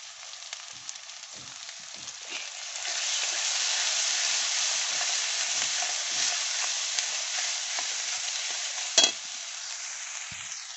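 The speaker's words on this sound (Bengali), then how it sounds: "মশলাটা ভাজা ভাজা হয়ে গেছে, হালকা তেল ছেড়ে দিয়েছে।" Spice paste frying in oil in a pan for a fish curry, a continuous close hiss that swells midway, with soft scraping stirs and one sharp clink near the end.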